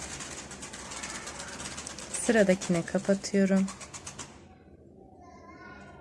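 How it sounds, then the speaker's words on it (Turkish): Pigeons in a backyard coop coo softly in low, rounded notes, partly mixed with a person talking nearby, before the sound drops to quiet. "bizim burada kuş yaşıyor"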